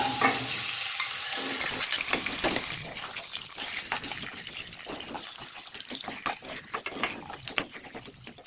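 Marinated crab fries in hot oil for a crab curry, giving a close, crackling sizzle with frequent sharp pops and spattering. The frying is stirred now and then, and the sound fades a little toward the end.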